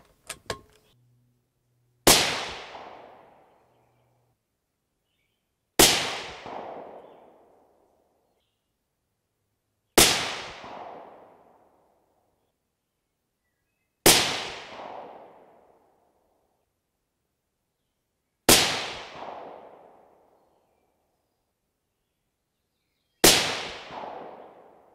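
Six loud rifle shots from a 6.5 PRC firing Hornady 140gr BTHP handloads, spaced several seconds apart, each a sharp crack with a long fading echo trail, with no talk between them.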